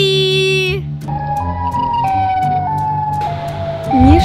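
In a video game, the Siren Head creature blares a loud electronic siren with wailing, stepped tones, followed by sustained warbling siren notes and a swooping call near the end.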